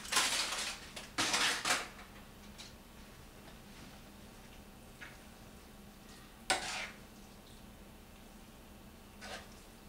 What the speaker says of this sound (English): Mix them in with the pasta